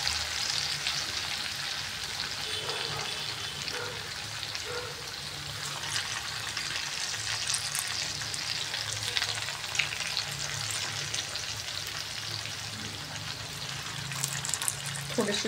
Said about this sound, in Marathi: मग आपण दुसऱ्या बाजूने पण याला तळून घेणार आहे